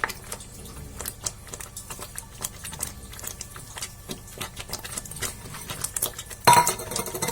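A spoon stirring green coriander into paneer masala in a pan, with quick repeated scraping clinks of metal on cookware at a steady pace, close and fairly loud, and a sharper clatter near the end.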